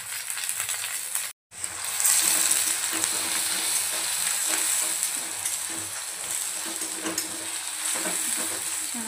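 Green chillies and curry leaves sizzle and fry in hot oil in a pan, a steady dense crackle with stirring throughout, briefly cut off near the start, close and fairly loud with no talking.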